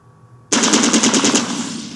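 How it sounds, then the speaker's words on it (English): Rapid automatic gunfire from the Fallout Tactics game, aimed at a target dummy, bursts in suddenly after a moment of quiet and rattles on as a loud, fast string of shots. "Target the dummy, and left-click to fire at it."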